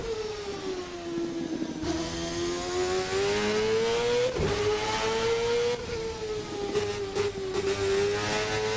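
A 1999 Formula North America race car in a racing video game, about 920 to 940 horsepower on 90% boost, revs up loudly and steadily, its engine pitch rising and dipping through gear changes with no talk.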